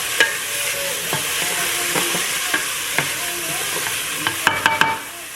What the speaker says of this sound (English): Start sauteing and softening.